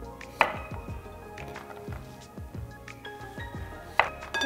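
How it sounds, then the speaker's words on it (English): A knife cuts a cucumber into little slices for a cucumber tomato salad, with a series of crisp close chops against the board, two sharper knocks and faint ringing clinks of dishes between them. "I'm gonna cut it into little slices like this."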